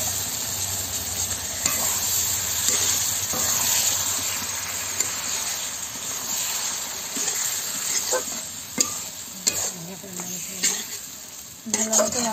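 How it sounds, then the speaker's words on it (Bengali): Pieces of country chicken sizzle loudly in a pot while being stirred, a steady close frying hiss broken by scraping and knocking of the spoon, with a voice speaking briefly. "এবারে মাংসগুলো দিয়ে দেব।"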